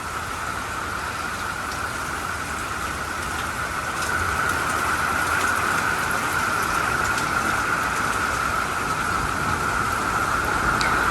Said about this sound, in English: And here comes all the rain that goes with it.